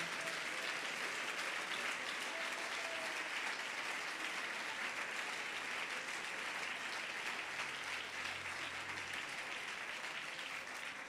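A church congregation claps continuously through a sermon, a faint but even wash of applause that holds steady from start to end.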